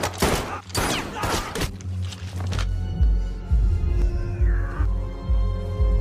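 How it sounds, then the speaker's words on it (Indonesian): Rapid gunfire from a 2023 action film, a dense burst of shots in the first seconds followed by heavier booming thuds and a rising tone, loud and close with no talk. "Robert pun langsung dengan cerdik menghabisi semua penjaganya Lorenzo dengan hanya menggunakan senjata yang dia ambil dari salah satu penjaganya"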